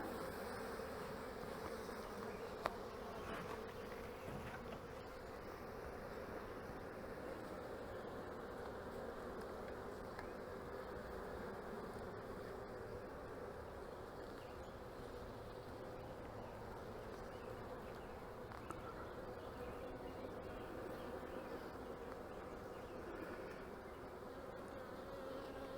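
Honey bees buzzing over a frame of queen cells in grafted queen cups, a dense steady hum of many insects at close range, continuous and fairly quiet, with no talking.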